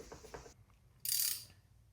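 A ratchet socket wrench turns on a roller cam valvetrain in a Henry J engine, giving one short burst of rapid ratcheting clicks after a quiet stretch, close and fairly loud.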